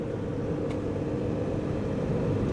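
A vintage van rolling over a freshly paved road, steady close interior rumble and low road roar with no gaps, no voices.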